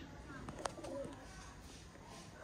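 Bateray pigeons coo faintly, one short call standing out briefly over steady background noise, with no voices.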